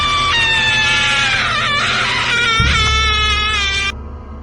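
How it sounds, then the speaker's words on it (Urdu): A loud, sustained scream in a dark room rises shrill and strained for about four seconds, wavering and breaking midway, over a low rumbling drone that swells near the end. "اچانک ایک زوردار چیخ سنائی دیتی ہے۔"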